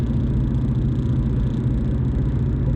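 A car's cabin rumble drones steadily while driving in traffic, with a low, even engine and road hum and no talking.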